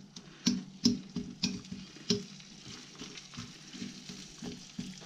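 Chopped onions frying in a pan, a soft sizzle punctuated by rhythmic taps and scrapes of a utensil, louder at first and then settling.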